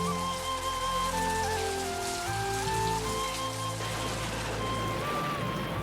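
Steady rain falls in an outdoor scene from a 2022 Hindi action film, a dense continuous hiss of drops on surfaces with low rumbling underneath and tonal background music layered throughout.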